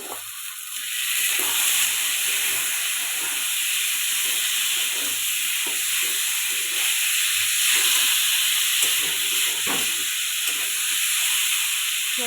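Green peas fry in a well-cooked spiced masala for a Bengali vegetarian cabbage dish, giving a steady, close sizzling hiss that runs unbroken throughout with no talking.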